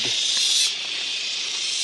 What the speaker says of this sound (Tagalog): kuliglig